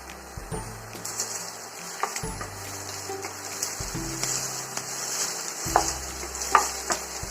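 Mustard seeds, green chilies and small shallots frying in oil give a continuous soft sizzle, broken by repeated low scraping and stirring strokes of a utensil in the pan, close and fairly quiet, with no talking.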